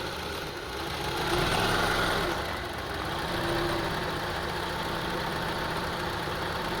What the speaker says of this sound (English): it's really bad rough idling.